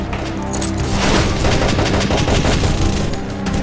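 Heavy combat erupts in the video game Modern Combat Sandstorm as an RPG is fired at a tank, a dense, loud, continuous wash of gunfire and booming blasts with no pauses.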